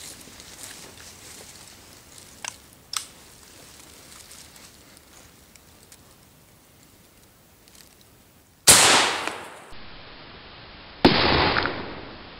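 A single loud gunshot from a 7.62 Wasser 10 AK-47 clone rifle fired at a steel-toe boot, an abrupt sharp blast with a ringing decay, followed by a second loud crack shortly after, both standing out against quiet outdoor background.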